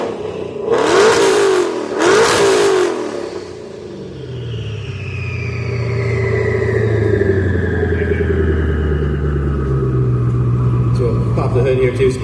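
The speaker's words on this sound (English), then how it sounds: "give it a couple good revs" Shelby Code Red being revved at a car show, two sharp loud revs in quick succession, then the engine settles into a deep rumbling idle with rising whine and a voice speaking briefly over it.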